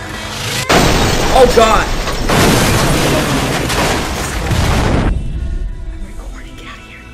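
Heavy gunfire and booming explosions from Far Cry 4, a loud sustained burst of blasts and shots lasting several seconds before cutting off, with a voice shouting over it.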